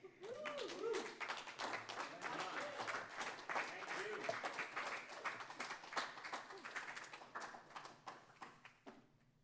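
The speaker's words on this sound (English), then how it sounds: "A little more applause for Wanda Sabir" Audience at a December 2024 poetry reading breaks into applause after a poem, a steady patter of many hands lasting the full stretch, with a few voices talking over it and the clapping thinning toward the end.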